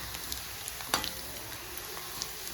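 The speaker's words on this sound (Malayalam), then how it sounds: "വെളുത്തുള്ളിയും പച്ചമുളകും ഇഞ്ചിയും പിന്നെ കറിവേപ്പിലയും കൂടി ഇട്ടിട്ട് നന്നായി ഒന്ന് മൂപ്പിച്ച് കൊടുക്കുക" Garlic, green chilli, ginger and curry leaves fry in hot oil for an Indian pickle, giving a steady, moderately quiet sizzle with a few brief crackles and one sharper pop near the start.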